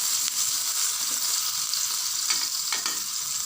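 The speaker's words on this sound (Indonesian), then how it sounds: "Kemudian saya mau buat ini terong ungu digoreng pakai" Purple eggplant frying in a little margarine, a steady close crackling sizzle with a few sharper bursts as pieces are stirred in the pan, no voices.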